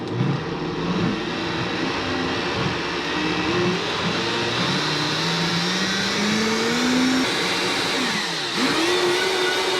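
A loud, steady motor whine roars continuously, its pitch slowly climbing and dipping as a blender runs at high speed.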